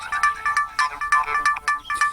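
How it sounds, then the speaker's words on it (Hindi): A lost Android phone rings after a remote ring command, its melodic ringtone repeating in short, regular bursts, close and clear with no talking. "ये रिंग होना स्टार्ट हो गई है।"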